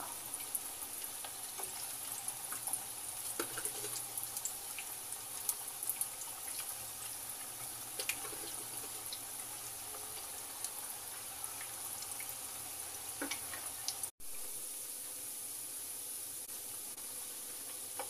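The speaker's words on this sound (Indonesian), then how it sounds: "Tuangkan minyak goreng ke teflon untuk menggoreng" Combro, cassava fritters, fry in cooking oil in a nonstick pan over medium heat, giving a steady, close sizzling hiss with faint crackles throughout and one brief dropout near the end.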